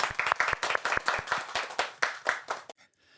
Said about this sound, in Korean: 두 분을 박수로 모셔보겠습니다.